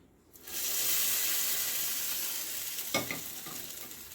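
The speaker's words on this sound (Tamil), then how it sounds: "இப்போ நம்ம தாளிப்பை அதில் சேர்த்துடலாம்" Tempering sputters loudly into a bowl of tea-shop bajji chutney for banana bajji, a sharp burst of sizzling that holds steady for several seconds, then fades with a brief clatter near the end; no voices.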